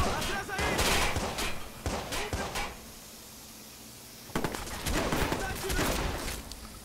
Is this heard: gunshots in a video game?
yes